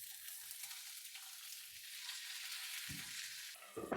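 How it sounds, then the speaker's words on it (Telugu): Medium-sized tomato pieces frying in a pan for tomato chutney, a steady soft sizzle throughout with a few low stirring knocks near the end, close and fairly quiet, no talking. "ఇలా ముక్క మెత్తబడేంత వరకు టమాటా ముక్కలు వేయించుకోవాలి."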